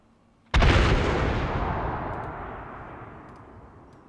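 A single heavy artillery round fired in Arma 3 on Tanoa, a sudden loud blast followed by a long, rolling reverberant decay lasting several seconds, with no talk.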